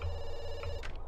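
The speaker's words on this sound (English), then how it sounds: "Let's answer the phone first," A telephone ringing in a bakery video game, one short electronic bell trill that ends with a brief chime near the end.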